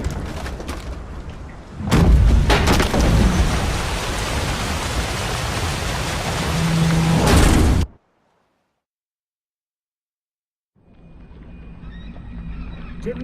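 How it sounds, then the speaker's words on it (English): Heavy rain and storm noise in The Witcher 3, a loud dense roar that swells for several seconds, then cuts to silence before quieter rain returns. "Didn't bargain for no storm."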